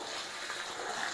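Warm water at about 50 degrees pours steadily into a sahti brewing vessel, a continuous close splashing gush with no pauses.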